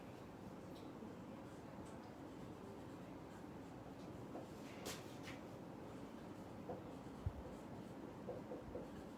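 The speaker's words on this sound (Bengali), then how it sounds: "আমি লিখলাম" Handwriting during a maths class, faint scratchy strokes of a pen on paper in short runs over a quiet room hiss, with no talk.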